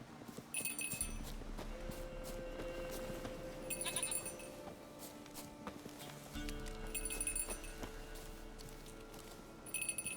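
Goat bleating in The Witcher 3 video game, with short bleats in bursts that recur over steady background sounds and hoofbeat-like clip-clops.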